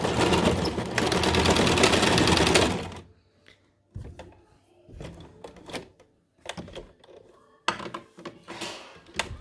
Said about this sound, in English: I sew all the way along this edge.